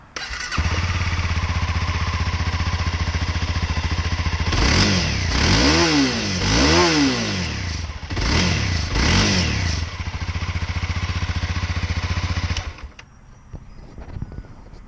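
A Honda CBR300R motorcycle engine starts up and runs loud and close, with a couple of sharp revs rising and falling midway before cutting off near the end. No talking.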